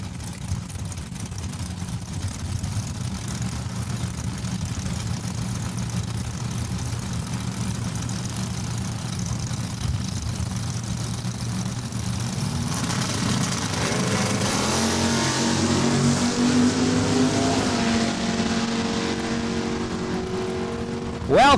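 An '87 Camaro and another drag car launch down a quarter-mile strip at a Saskatchewan raceway, engines droning loud and steady, then rising in a revving roar as they pull away.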